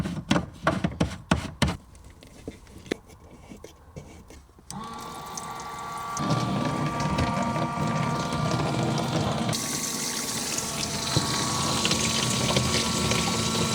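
An electric water pump in a DIY camper van water system, heard after a run of clicks and taps, then running steadily with a continuous whirring hum that rises in intensity midway, close and loud, with no talking.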